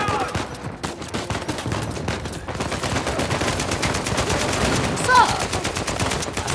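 Rapid automatic gunfire rattles through a firefight in Uncharted 4: A Thief's End, loud and close with a steady stream of shots and faint voices beneath.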